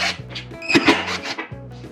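Screwdriver unscrewing the plastic water-path case on a Samsung Grande top-loading washing machine, giving short rhythmic grinding squeaks of screws turning, close and loud.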